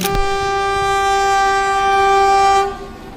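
A loud, sustained train horn blares close by on a railway line in Lalmonirhat, holding steady for over two seconds before cutting off, with rumbling rail noise underneath.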